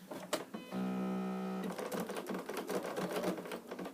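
A sewing machine with a badly seated bobbin, up close: a short whirring hum of stitching, then an uneven run of rapid clattering mechanical ticks and knocks, with no voices.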